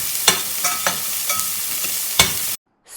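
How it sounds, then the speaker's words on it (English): Green chilies, curry leaves and fresh ginger stirred in a pan with onions for Sri Lankan rava uppuma, close and fairly loud: steady sizzling broken by several sharp spoon scrapes, ending abruptly. "Add green chilies, curry leaves, and that zingy fresh ginger. Give everything a good mix."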